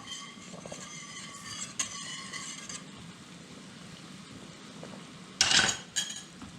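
Tomato paste stirred into a pot while cooking macarona, with soft metallic scraping and clinks against the pot over a steady background, and a louder clatter near the end.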